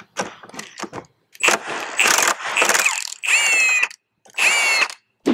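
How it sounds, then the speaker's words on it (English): Bursts of an impact wrench or ratcheting tool working a 14 mm seat belt bolt in a car interior, with short whirring and rattling pulses separated by brief pauses, loud and close. "this is going to expose a 14 millimeter bolt, which we can remove with either a breaker bar or an impact wrench"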